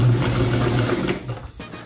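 A sewing machine stitches a straight seam along an open hem, running steadily and close for most of the clip before slowing and stopping near the end.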